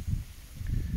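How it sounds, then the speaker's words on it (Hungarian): Wind picks up at a fishing lake, gusting and buffeting the microphone in low, rumbling surges for a moment, with no voices. "most elkezd fújni a szél"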